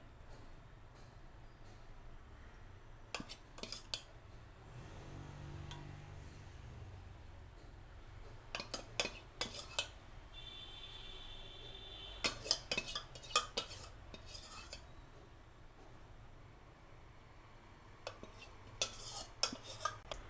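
Mung dal idli batter is spooned into metal idli moulds, with scattered light clinks and taps of spoon on metal over a quiet, steady background hum.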